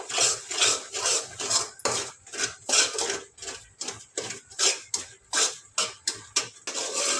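A thickening gram flour burfi mixture of sugar and ghee is stirred hard in a metal pan over high heat, giving loud, regular scraping strokes about twice a second, close up, with no talking.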